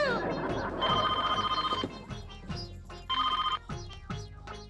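A telephone bell rings in two bursts, loud and near, with short pauses and clattering handling sounds between rings.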